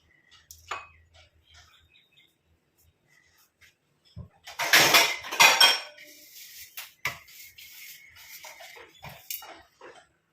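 A lid set onto a pot on a switched-off stove: a brief metallic clatter and scrape, fairly close, followed by light clinks and handling noise in an otherwise quiet kitchen.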